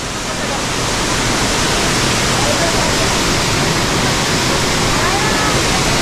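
Langvoku waterfall in Karbi Anglong, Assam, a dense, continuous roar of falling water filling the whole clip at steady, loud level, with no break.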